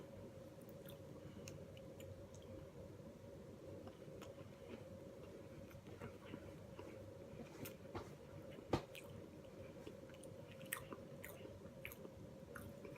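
Faint, close chewing of an uncooked pink lemonade Pop-Tart continues for several seconds with soft, irregular bites and squishes over a low, steady background hum.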